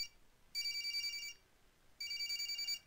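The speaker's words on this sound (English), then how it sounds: "Not sure if I want to answer the phone." Telephone ringing in the horror video game Corpse Party: two electronic ring bursts, each just under a second long, separated by a short pause, clear and fairly close.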